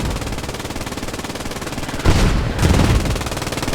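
Machine gun fire in a multiplayer video game match, a rapid, regular stream of shots that continues without a break, with a louder burst of blasts in the middle.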